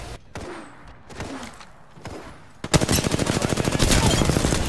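Gunfire from another squad in Apex Legends: after a few scattered shots, a loud rapid automatic burst erupts and keeps hammering in a fast, even rhythm to the end.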